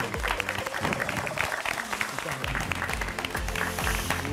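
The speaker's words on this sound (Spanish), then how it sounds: "¡Bravo! Un aplauso muy fuerte." A studio audience on a televised sewing competition applauds a finalist, the clapping fairly quiet and continuous beneath background music and scattered voices.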